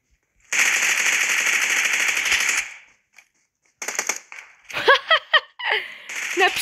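Gunfire in the mobile game PUBG Mobile: a long sustained burst of rapid automatic shots, a short silence, then more choppy bursts broken up by a player's voice.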